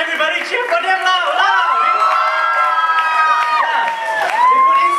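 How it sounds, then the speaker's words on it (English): An audience at a 2014 dance showcase cheers and shouts loudly as freshman dancers come on stage, with sustained high whoops and screams from a large crowd. "Come on everybody, cheer for them loud"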